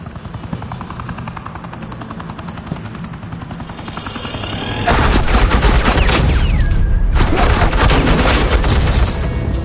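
Gunfire from Batman: The Enemy Within, a constant helicopter-like drone for the first half, then a loud, dense burst of rapid automatic fire that pauses briefly and resumes, continuing to the end.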